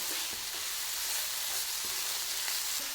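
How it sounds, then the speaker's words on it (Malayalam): Ingredients heating and sautéing in a pan for a ground paste to go with egg curry, giving a steady, close frying sizzle with faint occasional stirring clicks and no voices. "ഇത് നല്ലോണം ഒന്ന് ചൂടാക്കി എടുക്കാം ഒരുപാട് വഴട്ടണ്ട എന്നാലും നന്നായിട്ടൊന്ന് ചൂടാക്കി എടുത്താലേ അരയ്ക്കാൻ പറ്റത്തുള്ളൂ"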